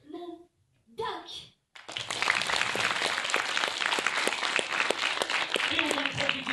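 After someone speaks briefly, the audience at a children's stage show bursts into lively, sustained clapping. The crisp hand claps continue for several seconds with faint voices mixed in.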